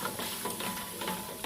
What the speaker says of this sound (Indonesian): Oke, kita aduk rata.